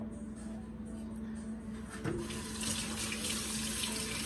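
A kitchen tap gushes water over hands being rinsed of mashed banana, starting with a soft knock and then a steady, close splashing stream under a low background hum.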